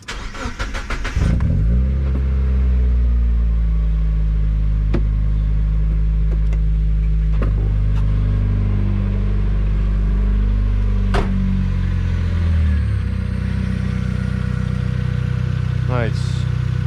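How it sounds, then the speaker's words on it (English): A Mazda Miata NB1 engine cranks and starts after an oil change, then settles into a steady, loud idle rumble close by for the rest of the run, with a few sharp clicks and a brief voice near the end. "you go start the car and just like observe. Now we just gotta make sure that it runs still."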